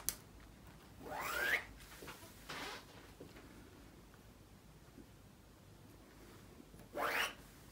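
Shears slice through fabric along the cross grain in two or three short, close rasping strokes with pauses between, quiet and unaccompanied by talk.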